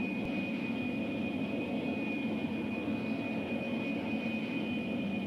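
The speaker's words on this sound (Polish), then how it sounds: "Samolot zaraz wystartuje." A cartoon airplane idles just before takeoff in a Pink Panther episode, its engine a steady, even drone with a constant high whine and no talking.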